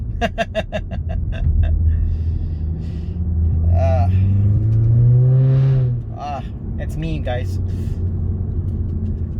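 A Rapid S family sedan's exhaust rumbles deep and steady, swelling as the warmed-up engine builds, while a person talks over it.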